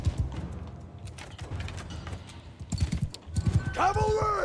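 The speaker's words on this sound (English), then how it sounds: "See if I can get the horses a little further over there." Cavalry horses in the Mount & Blade II: Bannerlord battle game, a rumbling rhythmic clatter of galloping hooves ending in a loud neigh, with someone talking over it.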